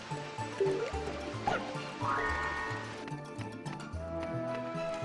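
A waterfall rushes in a Klonoa video game level. The steady watery wash sits under loud, busy game music with a bouncy bass line, and there is no talk.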